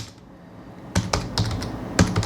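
Computer keyboard keys tapped while a prompt is typed into an AI presentation maker: a faint quiet stretch, then a handful of crisp, close keystrokes in uneven bursts.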